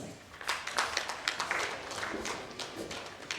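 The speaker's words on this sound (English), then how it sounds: "please felicitate S.K. Sood, sir, with the biggest round of applause" Applause at an Indian security conference felicitation ceremony, a modest audience clapping in uneven bursts that swell and ease, fairly close and without speech.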